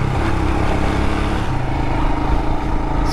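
A 2022 Royal Enfield Himalayan motorcycle being ridden, its single-cylinder engine thumping steadily under strong wind rush, close and loud throughout with no speech.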